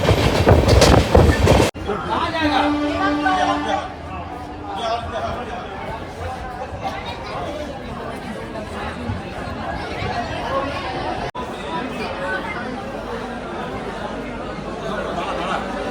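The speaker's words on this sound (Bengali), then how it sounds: "প্রচুর মানুষ এসেছে ট্রেনটাকে দেখবে বলে।" Crowd of people chattering on a station platform gathered to see a new Sealdah–Varanasi train, a dense murmur of many voices with a loud burst at the start, then steady background babble under nearby talk.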